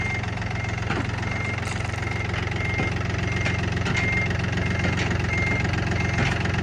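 A tractor engine idles steadily and loudly with a low rumbling hum and faint knocking, running continuously without any talking; the tractor has a rotary tiller attached and no power steering.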